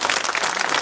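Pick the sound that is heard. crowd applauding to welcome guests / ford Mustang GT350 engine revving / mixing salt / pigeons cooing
crowd applauding to welcome guests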